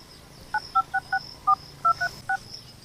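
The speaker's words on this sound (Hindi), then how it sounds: "फिर से नंबर लगा।" A phone number dialed on a keypad: about nine short, evenly spaced touch-tone beeps in a quick, slightly irregular rhythm, clear and close over a quiet background.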